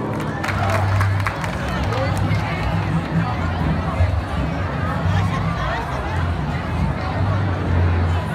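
Audience applause with cheering crowd noise greets a school marching band from Escola Getúlio Guedes in Pedras de Fogo, a dense steady wash of clapping and crowd chatter lasting throughout, with a low hum underneath.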